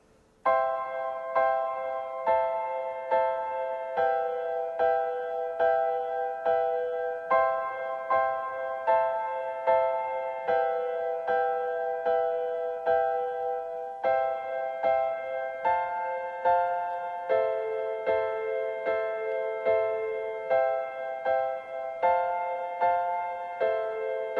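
Piano playing a repeating pattern of chords, each struck in a steady rhythm, clear and close with no talking.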